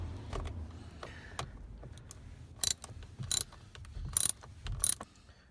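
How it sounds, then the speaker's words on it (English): A ratchet loosens the Torx nuts behind a Honda Civic steering wheel, with quiet clicking turns and a few sharp metallic clacks close by in a hushed space. "you're going to find a Torx nut on each side of the wheel. Go ahead and undo those."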